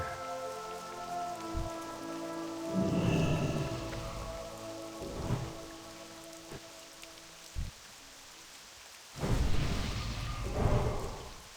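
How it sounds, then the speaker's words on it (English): Rain falls steadily in World of Warcraft Classic, a soft continuous patter overlaid with several deep rumbling thunder rolls and sharp cracks, one swelling loudly near the end. "Still raining here."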